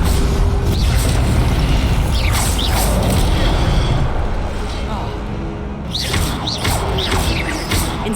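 The Incendio fire spell is cast in Hogwarts Legacy: loud, dense fiery rumble with crackling and mechanical clanks running steadily throughout, briefly dipping before surging again.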